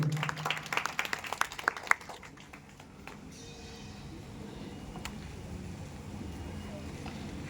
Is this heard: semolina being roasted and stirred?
no